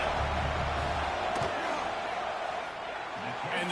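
A football stadium crowd roars during a fourth-down field goal attempt, a broad, steady wall of noise from many fans with a sharp impact partway through.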